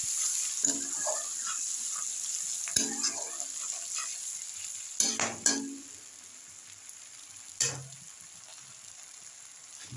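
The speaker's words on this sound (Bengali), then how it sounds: "এবার আমি মশলাটা করে নেব। প্রথমে দিয়ে দিচ্ছি পেঁয়াজ," Onion frying in oil as the masala for sea crab begins: a quiet sizzling hiss broken by a few sharp clatters and stirring knocks, with no speech.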